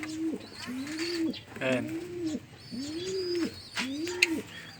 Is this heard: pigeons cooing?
yes